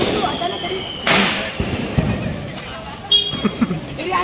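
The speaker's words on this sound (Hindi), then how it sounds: "आंग पे फेंक रहे पटाखे" Firecrackers going off during Diwali celebrations: several sharp bangs land at irregular moments, some close and loud, others more distant, over crowd hubbub and voices.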